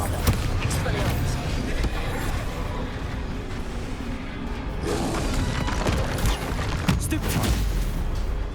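Bombarda blasting spells in Hogwarts Legacy explode in a haunted dungeon as loud, dense booms and crashes amid constant combat noise, with several heavy impacts in a row.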